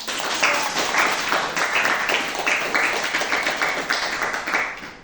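Students clap together in a classroom, a dense run of quick hand claps with a few louder accents, held at an even level for about five seconds and then stopping.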